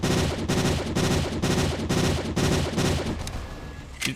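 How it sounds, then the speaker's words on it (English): Rapid bursts of gunfire in a video game set in a Detroit simulator, loud and sustained in repeated volleys roughly every half second, tapering off at the end with a final sharp report. "he still doesn't know I'm shooting at him"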